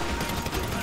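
A dense burst of rapid gunfire fills a brief moment of a Grand Theft Auto heist mission, continuous and loud with no gaps.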